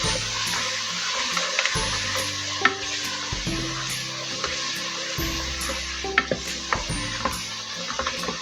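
Potato mince fries with garam masala in a pan, a steady sizzle with repeated spoon scrapes and clinks of stirring throughout.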